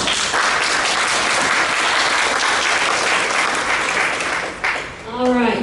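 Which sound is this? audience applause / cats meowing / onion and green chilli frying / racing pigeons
audience applause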